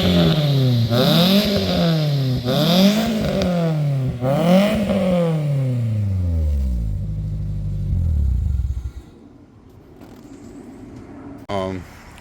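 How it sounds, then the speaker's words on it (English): A car engine with a new exhaust revs hard three times in rising, falling sweeps, then winds down to a rumbling idle and goes quiet, with a brief blip at the end. "The car sounds real good. We're gonna make sure we crank it for y'all."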